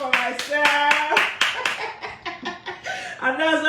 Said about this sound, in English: Wow, I clap for myself.